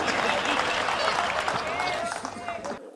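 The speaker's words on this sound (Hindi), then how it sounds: "ताली वाली बजाओ" Audience clapping at a Hindi kavi sammelan poetry recital, a dense continuous patter of many hands filling the space, steady and fairly loud, with a voice speaking over it and the applause tapering off toward the end.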